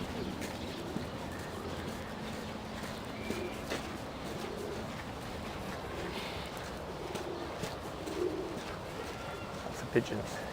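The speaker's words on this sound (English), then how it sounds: "pigeons." Pigeons cooing near a seaside shrine garden in Hakozaki, soft repeated coos mixed into steady outdoor ambience and distant murmuring voices, moderately far and partly masked.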